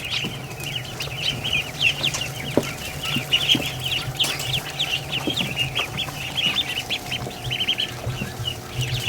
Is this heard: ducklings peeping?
yes